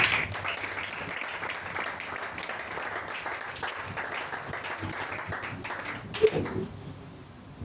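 A church congregation applauds in a sustained, dense patter of clapping while a voice speaks over it, the applause fading out near the end.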